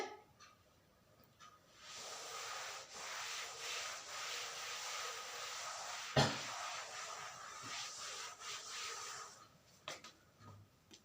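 A classroom board being rubbed clean with a duster during a physics lesson, a steady soft broadband scrubbing that runs for about eight seconds with one sharp knock midway, fairly faint in a quiet room.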